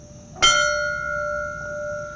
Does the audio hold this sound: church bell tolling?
yes